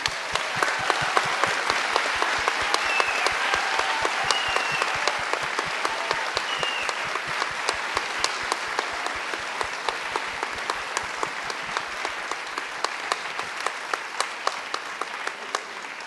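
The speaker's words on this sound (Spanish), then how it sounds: "yo quisiera que le diéramos un gran aplauso a nuestro presidente vitalicio, Rafael Cadena, el maestro Rafael Cadenas" A cultural event audience in Caracas applauds Rafael Cadenas with sustained, even clapping that carries on steadily with no voices over it.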